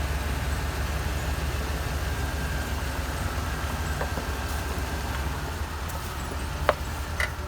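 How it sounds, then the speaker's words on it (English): A truck fitted with a hydraulic Fisher snow plow reverses about ten feet, its engine a steady, even low rumble that stays close throughout, with a few faint clicks and no voices. "Now we're going to drive it back approximately 10 feet to get the gears in"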